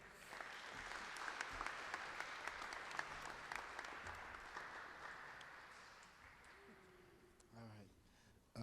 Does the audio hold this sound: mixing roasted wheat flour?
no